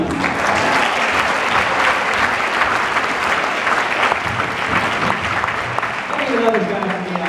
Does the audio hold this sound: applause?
yes